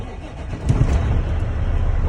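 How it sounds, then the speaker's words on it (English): Truck engine cranking and catching, then settling into a low, steady idle close by with some rumble beneath. "So I'm gonna start my truck here."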